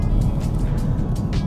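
A 2024 Volvo V60 Polestar Engineered accelerates in pure mode with a steady, droning engine note and road roar, loud and continuous with no talking.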